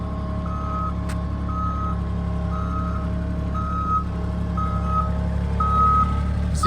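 An Avant 528 loader backs onto a trailer with a steady run of about six evenly spaced reversing beeps over a constant, close engine drone.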